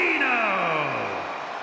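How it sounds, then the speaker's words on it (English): Arena crowd cheering and roaring in WWE 2K25 as Bruno Sammartino from Abruzzo, Italy, is introduced, a steady loud wash of voices with a descending tonal sweep over it, under commentary talk. "Listen to this crowd."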